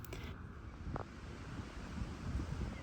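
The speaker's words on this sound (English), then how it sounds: "it's really windy outside, so I don't know whether you can hear it" Steady low rumbling wind buffets the microphone, with a broad gusty roar throughout and a brief faint knock near the start.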